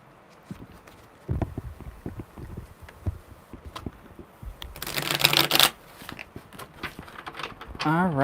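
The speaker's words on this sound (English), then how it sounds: "one more good shuffle" Tarot cards shuffled by hand in a riffle-and-bridge sequence, with soft papery flutters early on and a loud crisp burst of riffling midway, close to the microphone, between brief bits of talk.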